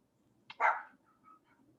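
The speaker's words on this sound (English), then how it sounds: "Please excuse the rabbit dog in the background." A dog barks once in the background, a short, sharp, fairly faint yip followed by a soft trailing whimper in an otherwise quiet indoor room.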